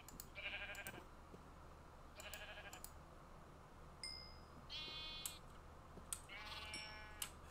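Sheep bleating in the Minecraft survival game, several separate harmonic bleats spaced across the clip, moderately close and clear over a low steady background hum.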